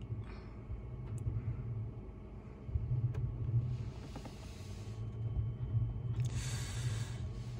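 A 1990 Dodge Xplorer RV truck rumbles along with a steady low drone, a few faint knocks from the back end, and brief hissy bursts over it; no one speaks.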